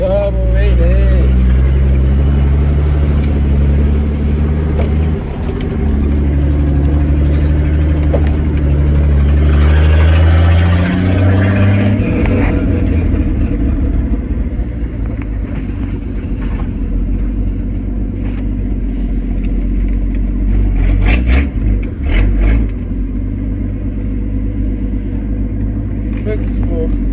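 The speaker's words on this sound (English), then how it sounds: "One old truck running." An old carbureted truck engine runs steadily with a deep, loud low rumble throughout, its tone shifting slightly midway, while a voice talks briefly over it.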